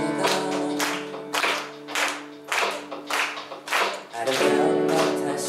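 A live audience claps along in rhythm at a Korean music performance, with regular, evenly spaced claps and sustained instrumental tones beneath.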